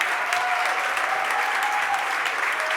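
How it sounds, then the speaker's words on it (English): A Philadelphia City Council chamber fills with sustained, even applause for young people, a dense wash of many hands clapping at steady loudness throughout. "Could we give our young people a real big round of applause?"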